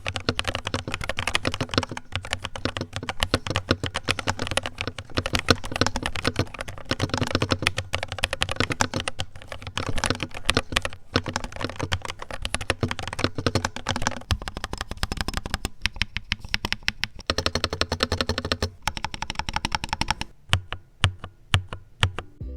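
Rapid, steady typing on a Womier M68HE V2 hall effect magnetic keyboard, dense close-up keystroke clatter with no talking, thinning into sparser, more separated key presses near the end.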